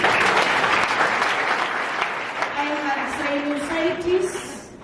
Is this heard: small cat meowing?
no